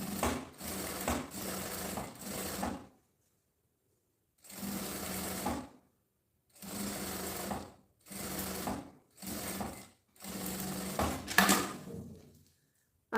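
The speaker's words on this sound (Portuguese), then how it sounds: "vou colocar estampa do forro de frente pro meu material e passa a costura aqui." Sewing machine stitching the lining of a round zippered pouch: several separate bursts of close, steady stitching of varying length, broken by short silent pauses between runs.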